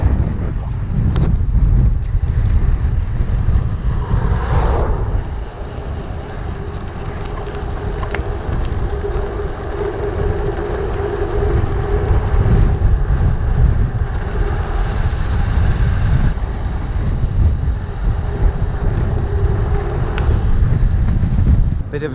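Strong wind buffets the microphone while cycling toward North Cliff Road, a steady low roar with gusts that swell and ease throughout, close and loud, masking other sounds.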